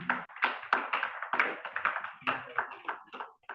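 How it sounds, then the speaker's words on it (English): An audience at a seminar in Abuja claps in rhythmic, evenly spaced bursts, close and fairly clear, with talk running underneath. "help me make welcome with a round of applause"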